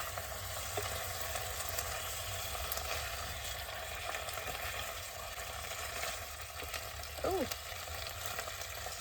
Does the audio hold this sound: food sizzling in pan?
yes